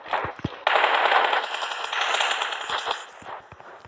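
Sustained automatic gunfire in PUBG Mobile on the Livik map, a dense rapid burst of shots running nearly four seconds after a couple of isolated single shots, loud and close with no talk over it.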